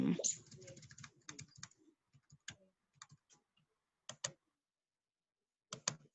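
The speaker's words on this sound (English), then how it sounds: "Starts typing." Computer keyboard typing during an online class, quick clusters of close key clicks separated by short pauses, the opening moment overlapping a brief bit of talk.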